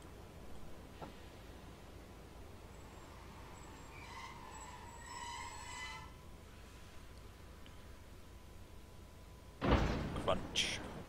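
Freight wagons couple in Train Simulator 2015 on the Hamburg–Hanover route behind a vR El BR143 locomotive. A low rolling rumble builds to one sharp, loud metallic crunch of the coupling, followed by a few rattling clanks.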